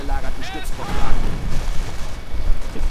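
Flames from a flamethrower torch an infantry squad in a wartime strategy game, a loud roaring, rumbling burst amid battlefield booms, with excited voices talking over the fire and explosions.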